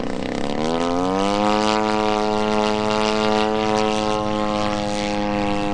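A 50cc Maxford USA Antonov An-2 RC model biplane, powered by an EME 60 gas engine, flies inverted with a loud continuous buzzing propeller drone that rises slightly in pitch then holds steady, close and unbroken.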